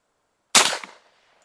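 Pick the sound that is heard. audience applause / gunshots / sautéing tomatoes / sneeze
gunshots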